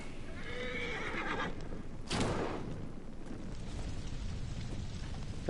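A horse in the Assassin's Creed Origins video game whinnies over steady in-game ambience, followed by a sharp, loud burst partway through.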